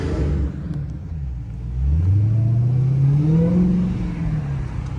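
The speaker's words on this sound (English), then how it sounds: "It was a car behind me that was revving his engine" A car's engine is revved hard behind the listener in the rain, the pitch sweeping upward and holding a loud, rising roar before easing back down.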